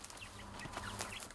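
Chickens from a poultry farm cluck in soft, overlapping bursts close by, over a steady low background rumble.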